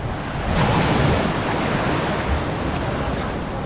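Ocean waves wash onto the shore near a boat at Puerto Princesa, Palawan, making a loud, close, continuous surging roar with some wind buffeting the microphone.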